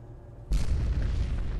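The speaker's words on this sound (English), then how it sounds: "And there goes an explosion." An explosion in the video game Fallout 4 bursts suddenly after a quiet moment, a loud booming blast whose heavy rumble carries on steadily to the end without talk.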